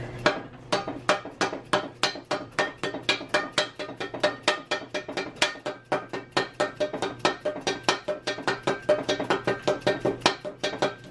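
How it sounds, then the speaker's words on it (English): Steady, rapid hammer blows drive a car suspension part into place on a Mitsubishi Galant VR4, around three per second, sharp and close, continuing for several seconds with no talk. "I'm gonna beat it in the rest of the way with the hammer."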